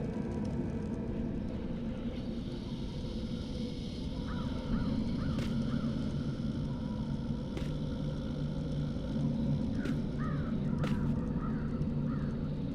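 Crows caw in short repeated bursts in the video game Dreamfall The Longest Journey, fairly distant and clustered in groups of two or three, over a constant low rumbling ambient background.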